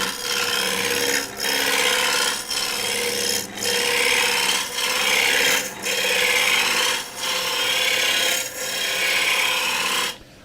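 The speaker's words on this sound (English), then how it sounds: "So I'm going to use the spindle roughing gouge." Wood on a slow lathe is cut by a spindle roughing gouge, a loud continuous rasping hiss that swells and dips in regular passes, about nine surges in a row.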